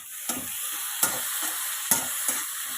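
Tomatoes stirred into onions frying in a pan for chicken kulambu, a steady close sizzle broken by four sharp scraping stir strokes at an uneven rhythm, with no voices.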